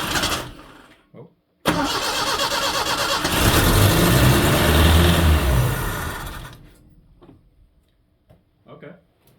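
A Datsun car engine fitted with a new carburetor cranks and catches, then runs loud and steady for several seconds with a high idle before dying away, leaving a few faint clicks and knocks.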